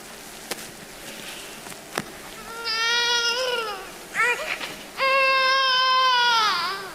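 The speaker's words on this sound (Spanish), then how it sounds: "se escucha el llanto de un mocoso" A baby crying in a radio drama sound effect, wailing in two rising, drawn-out bursts with a short whimper between, close and loud over faint background noise.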